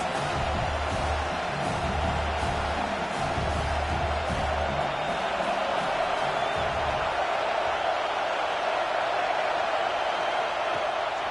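A football stadium crowd cheering on third down, a dense, sustained roar filling the space at a steady loud level, with brief low thumps underneath.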